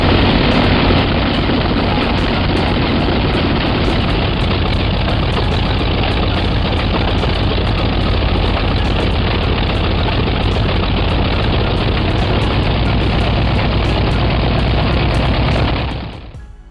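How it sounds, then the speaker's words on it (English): A loud, steady 28-cylinder radial aircraft engine drones continuously with a deep, rough roar, holding constant before cutting off abruptly near the end. "With its unique 28-cylinder corncob layout, this engine wasn't just a technical marvel."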